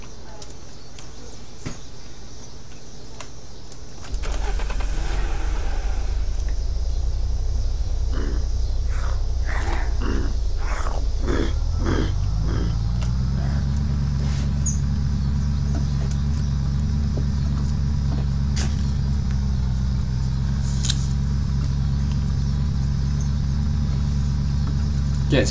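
A car engine in the survival video game Unturned turns over and settles into a steady, loud, low idle drone that runs on to the end, with faint bird calls in the background.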